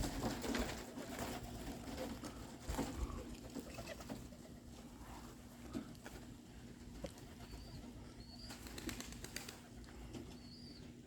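Young pigeons on their first day out mill around a loft, with soft cooing and bursts of wing flapping against a steady hum, the birds moderately close and fairly quiet.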